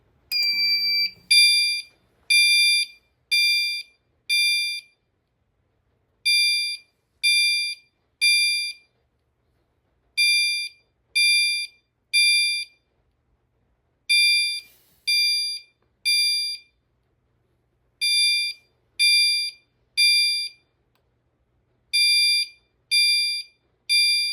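A System Sensor L-series fire alarm chime sounds its temporal 3 pattern at high volume: loud, piercing beeps in groups of three with short pauses between groups, repeating steadily with no other sound.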